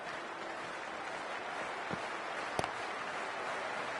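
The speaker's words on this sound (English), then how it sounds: "already the crowd is up and about" A large crowd at a Big Bash League T20 cricket match between Sydney Thunder and Brisbane Heat sends up a steady, broad roar of cheering and applause, with a couple of brief sharper claps or shouts standing out.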